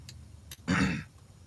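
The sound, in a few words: coughing and throat clearing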